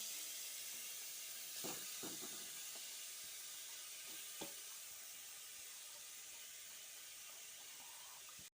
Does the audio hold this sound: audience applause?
no